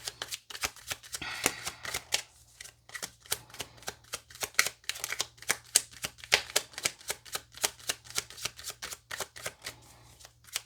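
Tarot cards are shuffled close up in a steady run of quick riffling and slapping bursts that repeat rhythmically throughout, with no talking.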